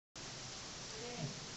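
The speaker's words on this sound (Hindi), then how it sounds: "बारिश हो रहा है।" Steady rain falling outdoors, a dense continuous hiss that holds evenly throughout, with a faint voice briefly underneath near the end.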